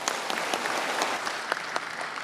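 Audience applause at a city inauguration and groundbreaking ceremony for development works, a dense, steady clapping that runs throughout with a few sharper claps standing out.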